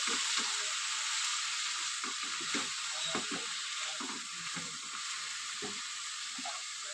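Spinach curry with turmeric sizzles steadily in a pan while a spatula stirs it, making repeated soft scraping knocks against the pan over a continuous frying hiss.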